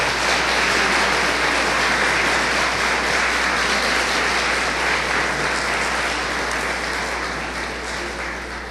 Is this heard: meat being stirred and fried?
no